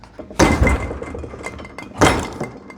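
Two sharp metallic hammer strikes ring out against a stuck trailer wheel bearing race clamped in a vise, spaced about a second and a half apart, close and loud with short resonant ringing.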